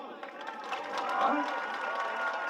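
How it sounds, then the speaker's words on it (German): Crowd applause and cheering at the opening of a mountain bike festival, a dense wash of clapping and voices building slightly midway, heard under a speaking voice. "Ein Applaus!"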